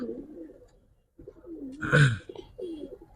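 Giribaz high-flyer pigeons cooing up close, a few low throaty warbling coos separated by a short pause, with a louder burst of fluttering or handling noise in the middle.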